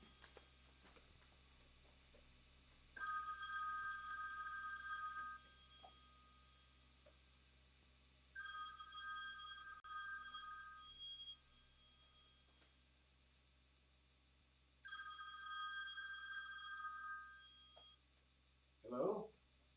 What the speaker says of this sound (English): You hear that 1980 phone ringing in the background?